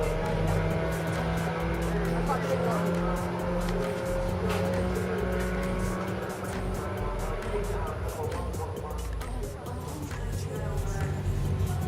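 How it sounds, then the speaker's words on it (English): A red Volkswagen Beetle drag racing at Bug Jam, heard as a steady engine roar mixed with crowd and track noise, with a commentator talking over it throughout. "VW Sportsman champion Dean Clatworthy heading up the right hand lane in this red, beautifully painted Beetle"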